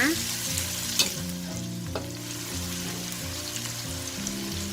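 Tiny dried fish fry in hot oil while being stirred, a steady dense sizzle and crackle with occasional scraping clinks of a utensil, continuous and close throughout.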